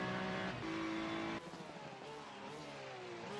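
A race car in the racing game iRacing at Daytona Road pushes through a chicane, its engine note dropping on a downshift then climbing again as it accelerates out, with faint tyre squeal, fairly close and alone.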